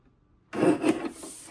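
A cardstock strip being trimmed for card making gives a single short scraping rub of the trimmer blade, lasting about a second, close and alone after a brief silence.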